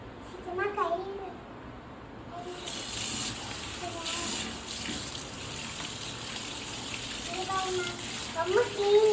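A tap runs steadily into a sink while dishes are washed by hand. The water gushes continuously as a child and an adult talk over it.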